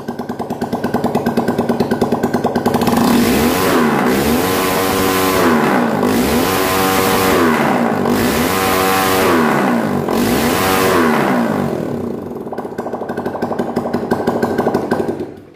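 A TVS Apache 4V motorcycle engine runs with its exhaust silencer removed, loud and close, cycling through several throaty revs that rise and fall in a steady rhythm before settling back toward idle.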